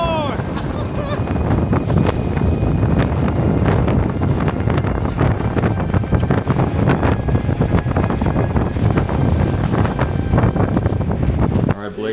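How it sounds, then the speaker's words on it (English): Strong wind roars in gusts against the microphone in a blizzard on the exposed mountain trail to Trolltunga in Norway, a loud, continuous buffeting that fills the whole stretch before dropping away at the very end. "I want more wind."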